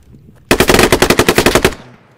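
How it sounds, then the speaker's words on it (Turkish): A single loud, close burst of automatic gunfire in the Squad video game, a rapid string of about fifteen shots lasting just over a second, ending abruptly with a faint tail and no talking. "Aga south'tan gelen adam vuruyor"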